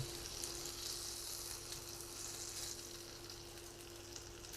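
Continuous soft sizzle of chicken pieces frying in hot oil, steady and fairly quiet throughout, with no voices.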